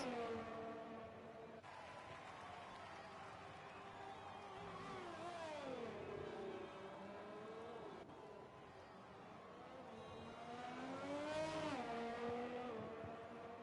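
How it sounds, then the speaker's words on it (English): Ferrari Formula 1 car in the F1 2020 racing game on a flying lap at the Mexico circuit, its high-pitched engine wailing up and down through gear changes and shifting revs, with a commentator talking over it throughout. "Orange Gamma coming round to start a flying lap here in the Ferrari"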